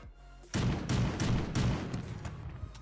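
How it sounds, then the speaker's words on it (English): Enemy gunfire in the game Creative Destruction, a sudden burst of rapid repeated shots following brief quiet, sharp cracks recurring over a couple of seconds. "They are starting to shoot me now"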